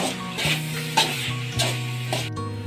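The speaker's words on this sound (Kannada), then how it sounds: "ಈಗ ತರಕಾರಿ ಜೊತೆಗೆ ಅನ್ನನೂ ಕೂಡ ಹಾಕಿ ಚೆನ್ನಾಗಿ ಫ್ರೈ ಮಾಡಿದ್ದೆ" Cooked rice and vegetables stir-fried in a pan for veg fried rice: a spatula scrapes and clacks against the metal in regular strokes about every half second over a steady sizzle.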